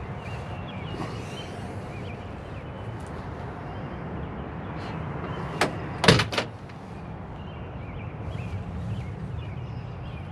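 The removable door of a 1971 Ford Bronco restomod with a built 302 is handled, giving a couple of sharp latch clunks and a thud midway through, with quiet ambience around them and no talk.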